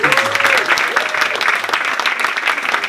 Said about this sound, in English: How about a round of applause for the